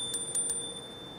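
Bell on a Xiaomi electric scooter, three quick bright rings close by over a quiet background hiss.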